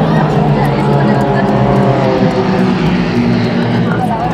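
Military aircraft flying over a Chilean army parade, a loud continuous engine roar and drone filling the air for the whole stretch, steady and close, with crowd noise blended in.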